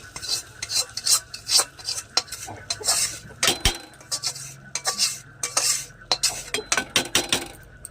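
A spoon scrapes and clinks against a pot as tempering spices go into vegetable khichuri cooked at home, with irregular metallic knocks and a soft sizzle underneath.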